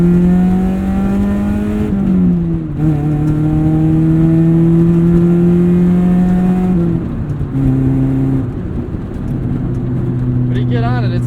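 A 1996 Saturn SC2 coupe with a manual gearbox accelerates hard, its engine note climbing steadily, dropping at gear changes, then rising again, loud and close from inside the car.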